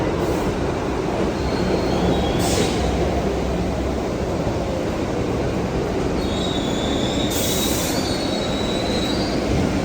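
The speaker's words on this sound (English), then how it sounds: "My train is coming" A train pulls into a New York station with a loud, sustained rumbling roar, while sharp high metallic wheel squeals rise briefly several times over the steady din.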